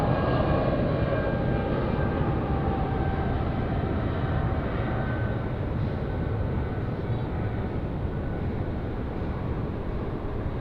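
A jet aircraft at Sydney Airport makes a constant broadband roar with a faint whine on top, holding steady and fairly distant for the whole stretch, with no talking.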